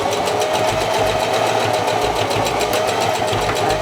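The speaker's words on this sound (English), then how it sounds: "So I'm gonna start sewing this." Sewing machine stitching fabric for a scrunchie, a steady fast mechanical whirr with a rapid regular needle rhythm running continuously and close, with no talk.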